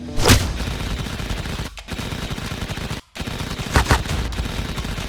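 Rapid gunfire from a Batman detective video game, several loud shots in quick bursts over a dense, continuous background with brief silent gaps.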